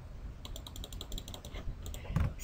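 Rapid irregular clicking of a computer keyboard being typed on at close range, keystrokes tapping in quick bursts with short pauses between them.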